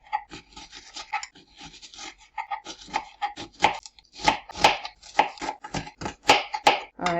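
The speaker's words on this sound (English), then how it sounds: "I'm just going to use half of the onions, and it's just going to be a very tiny long slice like this" A knife slicing half of some onions into thin long strips on a board, steady rhythmic cuts growing quicker and crisper, close and alone.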